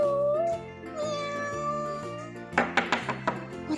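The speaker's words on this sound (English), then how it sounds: "This is a cat. The cat goes." A cat meows from a farm animal toy, a drawn-out plaintive call that fills most of the clip, followed by a quick run of sharp clicks or taps near the end, all close and moderately loud with no one talking.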